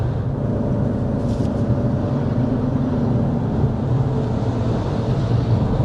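A 2025 Lexus NX 350h hybrid with an eCVT accelerates, giving a steady, muted engine drone and road rumble heard from inside the cabin, moderately loud and even, with no talking.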